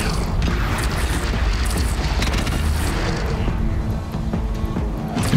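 Weapon fire in Horizon Zero Dawn Complete Edition on PlayStation 5, in a final battle: booming mechanical bursts over a dense, loud game soundscape, steady throughout with no talk.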